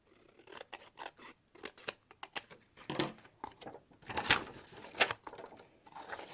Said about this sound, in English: I'm going to cut a little bit more.